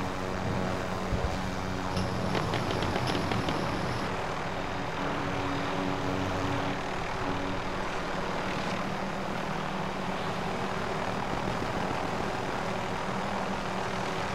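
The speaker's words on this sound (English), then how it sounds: "Did we both go for the chopper?" Helicopter in a first-person shooter video game, a steady droning engine and rotor hum that stays loud and constant throughout, with faint game effects layered over it.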